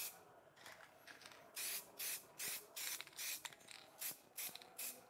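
HyperDip spray coating misted from a can onto car emblems in light coats: a run of short, soft hissing bursts in a loose rhythm over faint background noise, with no voices.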